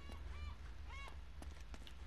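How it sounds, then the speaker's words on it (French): Goose honking in Uncharted: Drake's Fortune, several short nasal honks spaced irregularly over a low steady background rumble, with no speech over them. "Il y a une oie. Une oie."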